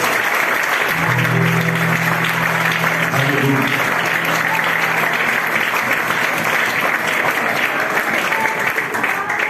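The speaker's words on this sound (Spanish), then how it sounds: "Aplauso al Señor." Loud, continuous applause from a church congregation fills the whole stretch, with a low sustained instrumental tone and some voices blended in over the first few seconds.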